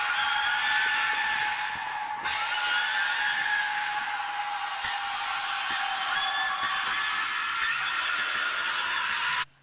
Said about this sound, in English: This is Christina's whistle.